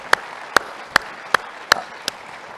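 Six slow, evenly spaced hand claps ring out sharply at a conference general session, isolated and distinct rather than a full audience ovation, over a quiet room.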